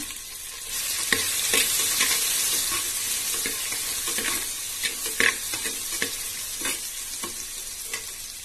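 Small shallots frying golden in a clay pot while making pullachakeerai, a continuous crackling sizzle with intermittent sharp stirring scrapes up close, no speech.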